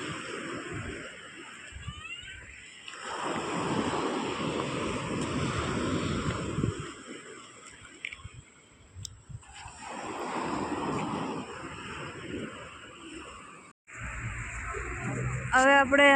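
Surf washing onto the beach at Botany Bay, a broad steady wash that swells, eases around the ten-second mark and swells again, with wind buffeting the microphone and a brief break near the end.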